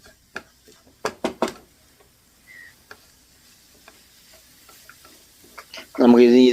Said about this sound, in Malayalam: നന്നായിട്ട് മിക്സ് ചെയ്യണം.